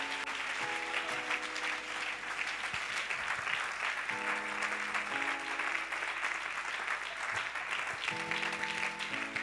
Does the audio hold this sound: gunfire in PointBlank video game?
no